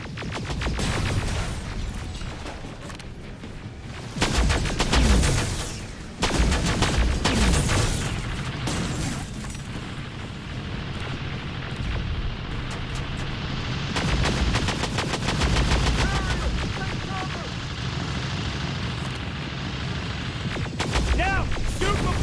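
Gunfire in the Terminator Resistance video game: rapid bursts of automatic fire and heavy blasts repeat throughout, loud and close, with shouted voices and explosions mixed in.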